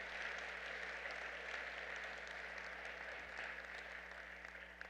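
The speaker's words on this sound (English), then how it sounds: "Give Cecil a round of applause" An audience at a keynote talk applauds for Cecil with a steady, even wash of clapping that holds for several seconds and sounds somewhat distant and soft.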